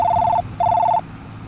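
Phone ringing in a farming video game: two electronic ring bursts with a short gap between them, loud and close, over a low engine rumble.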